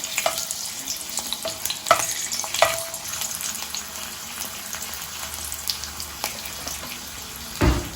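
Kokum pieces fry in hot oil in a pan for okra bhaji, a steady close sizzle and crackle with light spoon stirring and a few sharper pops.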